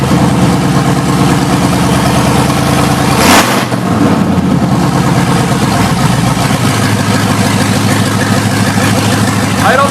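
A Power Wagon fitted with a Hellcat engine cranks and starts partway through, its bark briefly loud before settling into a steady, close idle that keeps running under and after the start.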